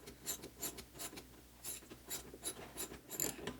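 A socket wrench tightens a wheelchair axle nut with faint, quick rasping strokes that repeat in a steady rhythm, close by and quiet.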